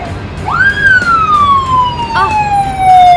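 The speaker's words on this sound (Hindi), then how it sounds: "एम्बुलेंस आ रही है।" Wailing ambulance siren sweeping up then slowly falling in pitch, loud and steady with a second rise near the end, low road rumble beneath.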